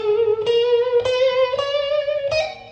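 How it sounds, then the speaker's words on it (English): A single sustained instrumental tone with an exaggerated, wide vibrato, its pitch wavering and slowly rising, with several distinct re-articulations, played alone and close. "If they're instructing you on vibrato, then it may sound something like this."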